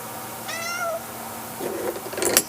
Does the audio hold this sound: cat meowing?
yes